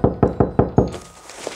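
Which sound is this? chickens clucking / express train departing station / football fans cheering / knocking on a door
knocking on a door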